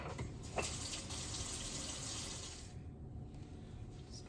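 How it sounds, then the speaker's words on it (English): Hands washed under a running tap, a steady splashing hiss with a few small knocks, fading and dropping away near the end, quiet and close. "Turn it off and wash my hands."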